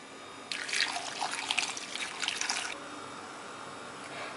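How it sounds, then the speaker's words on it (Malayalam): Water pours in a steady splashing stream into a cooking pan holding breadfruit pieces for a Kerala-style dish, lasting about two seconds before stopping, close and alone with no talk. "ഷീമച്ചക്ക വേവിക്കാനായിട്ട് അതൊരു പാനിലേക്ക് ഇട്ടിട്ടുണ്ട്. ഇതിലേക്ക് നമുക്ക് ആവശ്യത്തിനുള്ള വെള്ളം ഒഴിക്കാം."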